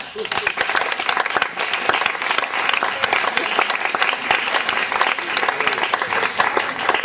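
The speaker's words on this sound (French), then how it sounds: "On l'applaudit." Audience applause at a cinema gathering, sustained clapping from a sizeable crowd, loud and continuous for several seconds with sharp individual claps standing out near the front.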